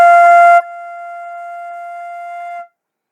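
A flute plays a single sustained F, breathy at the attack, then settles into a pure, steady tone for about two seconds before stopping cleanly, alone and close.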